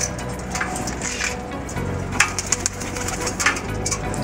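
Pigeons coo nearby in soft repeated calls, with a few light clicks and scuffs over a quiet background.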